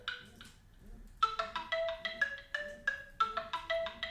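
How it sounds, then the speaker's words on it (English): A phone ringtone for an incoming call plays a bright, repeating electronic melody of short tonal notes, a brief phrase followed by a pause and then a steady run of chiming notes, fairly clear and alone. "People ringing me."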